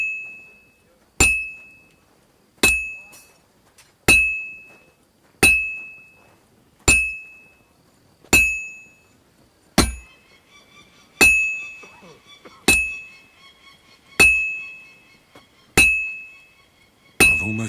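Hammer blows on metal at an anvil in Kingdom Come Deliverance 2, a steady series of about a dozen loud ringing clangs spaced roughly one and a half seconds apart, each decaying before the next.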